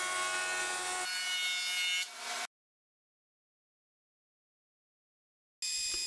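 A saw rips through extra maple and padauk boards with a loud, steady cutting roar for about two seconds, then goes silent before a brief burst of noise at the end.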